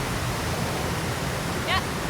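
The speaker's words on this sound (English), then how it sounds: "That's a really cool waterfall." Steady broadband roar of a waterfall at Shin Brook Falls, a continuous rushing wash of falling water filling the scene, with a brief faint chirp near the end.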